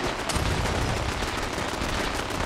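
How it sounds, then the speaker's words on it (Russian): Dense gunfire and explosions crackle in a Fallout 4 battle, rapid overlapping shots forming a loud, continuous barrage with no speech. "Давайте, там взрывы."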